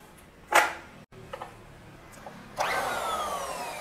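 RONIX miter saw cutting Dutch teak, with a brief whine and a few light knocks before the blade spins up into a steady, rising motor whir that continues to the end, close with no talk.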